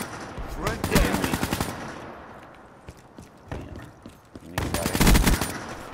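Automatic gunfire in Call of Duty Black Ops III multiplayer, two loud bursts of rapid shots at the start and end with scattered single shots between, alone without talk.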